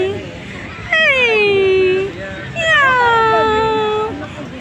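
A cat meowing twice, each a long, loud, close cry that slides downward in pitch, separated by a short pause over a low background hum.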